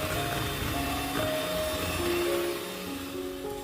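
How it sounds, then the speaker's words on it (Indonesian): An electric mixer whirs steadily while beating cookie dough until pale and creamy, a continuous motor drone with shifting pitch, close and fairly loud throughout with no talking. "lanjutkan mixernya sampai dia benar-benar creamy banget dan pucat putih gitu"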